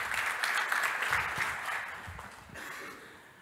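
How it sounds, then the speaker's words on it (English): A conference audience applauds a speaker at a data science event, a dense wash of clapping at moderate level that fades slightly toward the end with no voices over it. "I would like to give a huge round of applause for our speaker"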